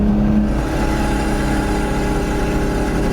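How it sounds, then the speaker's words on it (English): A turbocharged car pulls hard away after brake boosting at highway speed, its engine a loud, steady rumbling roar close by with a constant whir throughout and no talk. "as soon as you take the foot off the brake, it just launches forwards"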